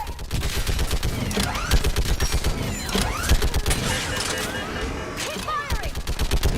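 Mass Effect 3 battle gunfire, heavy rapid volleys of shots in dense repeated bursts with ricochet-like whines, loud and close amid shouted orders.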